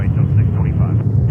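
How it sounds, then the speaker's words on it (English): Emirates Airbus A380 in NBA livery at JFK airport, a loud steady jet engine roar rumbling low and continuous for a brief moment, with a voice talking over it. "let's go over to Emirates 380. There he comes, the NBA livery."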